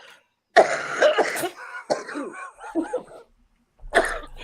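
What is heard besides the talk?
coughing from sinuses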